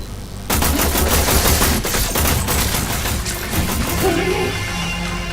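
Rapid automatic gunfire from the co-op shooter Warframe starts abruptly and keeps up as a dense, loud, continuous rattle.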